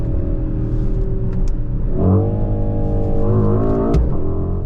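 A 2023 Mercedes-AMG GLE 63 S Coupé driving at speed, heard as a loud, steady engine drone from inside the cabin that rises in pitch twice as it accelerates, with no speech.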